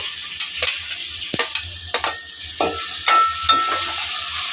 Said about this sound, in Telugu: ఇప్పుడైతే ఇందులోని ఆనియన్స్ వేయించుకుందామండి